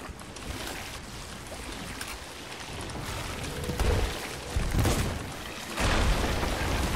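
Cannonball fire at a boat in a video game: booming blasts and a rumbling wash over a busy game soundscape, with louder impacts toward the end.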